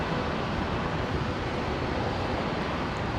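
Qantas 526 airliner from Sydney touching down on runway 01 right at Brisbane International Airport, a steady broadband roar of engines and rushing air, loud and constant throughout, with no talk.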